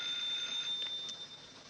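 A telephone ringing on the other end of a line in a 1940s mystery drama, a thin, steady, high-pitched ring that stays fairly faint and even for under two seconds.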